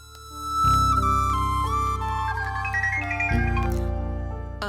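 A mobile phone rings with a tonal melodic ringtone, sustained and fairly loud, notes stepping up and down over a steady low tone, alone without talk.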